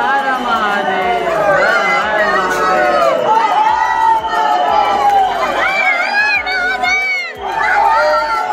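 Dense crowd at the Mahakal temple in Ujjain, many voices chanting and shouting Har Har Mahadev in overlapping rising calls, loud and close, with busy chatter and cheering throughout.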